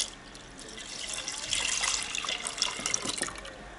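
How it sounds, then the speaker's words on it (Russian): Milk is poured into a bowl of room-temperature soured milk while making homemade yogurt for a multicooker, a soft, steady liquid trickle close by that swells slightly midway and lasts a few seconds. "наливаем молоко"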